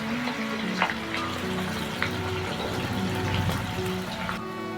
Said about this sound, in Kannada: ಎಣ್ಣೆಗೆ ಹಾಕಿ ಈರುಳ್ಳಿ ಚೆನ್ನಾಗಿ ಫ್ರೈ ಮಾಡಬೇಕು